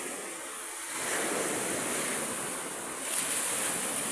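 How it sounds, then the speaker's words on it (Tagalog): Strong ocean waves surge and wash against a damaged seawall, a broad steady roar that swells twice, with wind buffeting the microphone. "Grabe, lakas ng alon."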